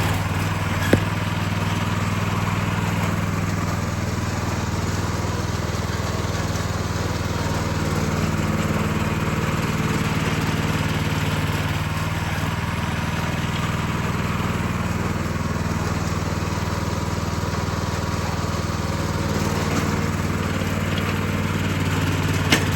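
A vintage Toro Wheel Horse C-145 tractor with a Predator 420cc engine plowing snow on frozen ground, its engine droning steadily and loudly up close, with slight rises and falls in load and no talk.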